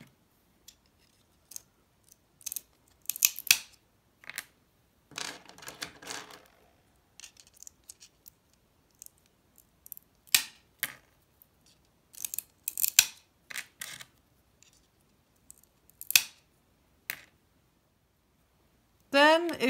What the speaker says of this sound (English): You then apply gentle pressure to the handles to cut the tile in half.